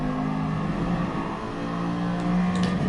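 A racing car in a manufacturer racing game spinning its wheels, a loud steady engine drone with rising revs and brief squeal toward the end.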